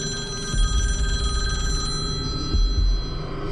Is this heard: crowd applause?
no